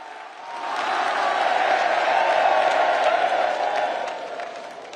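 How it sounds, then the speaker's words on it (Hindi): A large crowd at a Bageshwar Dham religious gathering in Bundelkhand claps loudly and steadily, with scattered cheers, swelling from the start and holding strong for several seconds. "जोरदार ताली बजा करके हम सब पूरा बागेश्वर परिवार स्वागत करें"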